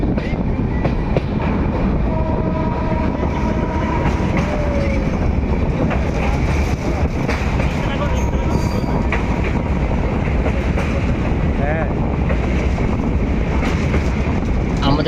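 Passenger train on the Howrah to Jammu route crossing a bridge, a steady loud rumble of wheels on rails with rolling clatter throughout, continuous and close.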